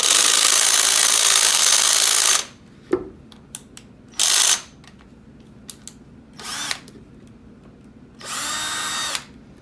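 Hammer drill boring a hole, running in loud rattling bursts that start and stop several times, with sharp clicks and knocks in the quiet gaps between runs.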